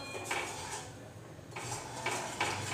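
Spices are stirred in a pan over medium heat, with a utensil scraping and clinking against the metal in a few short bursts separated by quieter gaps.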